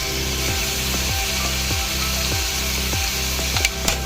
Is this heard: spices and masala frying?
yes